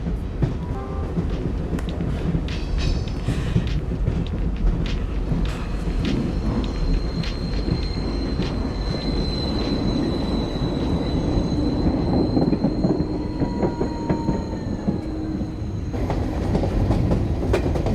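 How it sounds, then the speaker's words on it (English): Video-game train pulling into a station and braking, steady loud rumble of wheels on rails with clattering and long high squealing brakes that fade near the end. "Wait till the train stops."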